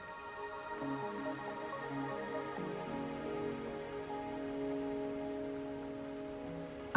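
Soft rainfall hisses on a surface at low volume while a calm melodic line plays over it, the patter staying even and unbroken.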